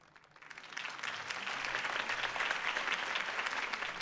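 Video game crowd applause swells in after a quiet start and holds as a steady, dense wash of clapping, moderately distant.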